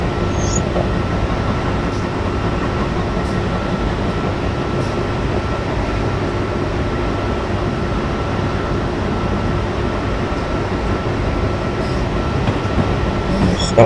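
Train rumbling steadily in a train driving video game, a continuous low roar of rolling wheels and rail noise with faint clicks and squeals, heard alone for the whole stretch.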